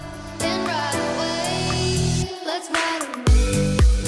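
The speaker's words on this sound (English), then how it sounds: "So there's also this impact effect here. Symbol transition." Cymbal crash impact sample used as a transition in an electronic dance track, heard amid a loud synth and bass arrangement with gliding melodic tones, a sudden drop-out, then hard bass hits returning.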